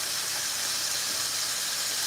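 Onions sizzling in a hot pan for taco filling, a steady, loud, broadband hiss that holds evenly throughout with no voices.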